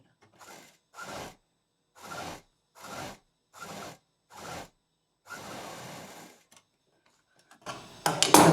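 A sewing machine stitches the second side of a fabric pillow cover bag in about six separate short bursts and one longer run, each followed by a pause, close by and fairly quiet, with a brief clatter at the end.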